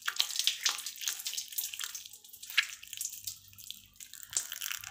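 Rock moss being soaked and squeezed by hand, wet splashing, dripping and squelching water close up, with trickles and crackly squeezes rising and falling in irregular bursts.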